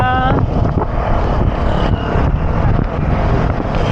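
Strong wind roars against a rider's microphone on the Sierra Loop mountain road near Sampaloc, a steady close rumble that buffets without a break.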